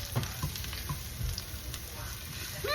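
Garlic sizzles in a pan as it is stirred during a vegetable stir-fry, a soft steady crackle with a few light scrapes and taps, fairly quiet and with no talking.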